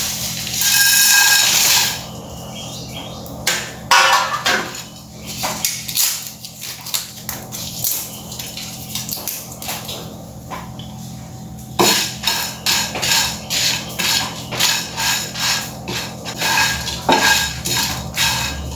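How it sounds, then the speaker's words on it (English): Whole spices being dry roasted in a hot pan for a Goan prawn curry, with a utensil scraping and clattering against the metal in bursts, then rapid rhythmic stirring scrapes, close and fairly loud with no talking. "Now we will dry roast all these spices."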